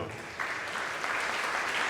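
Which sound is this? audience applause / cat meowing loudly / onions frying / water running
audience applause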